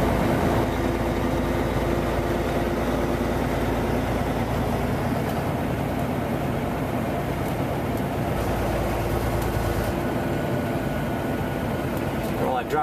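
A vehicle engine drones steadily in low gear while driving a winding mountain road curve in Montana, a constant loud rumble that runs throughout under a voice.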